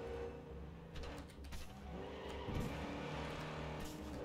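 A car engine in Cyberpunk 2077 Phantom Liberty, the Quadra Type-66 Wingate, hums steadily at low volume with faint revving and mechanical clunks, no talking.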